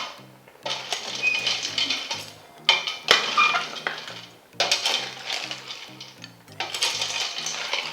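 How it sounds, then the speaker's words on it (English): A spoon stirs a pot of Banga soup as dry fish goes in: bursts of metallic scraping and clinking against the pot come in uneven clusters separated by brief pauses, close and fairly loud. "And then I'll just stir and add my dry fish last"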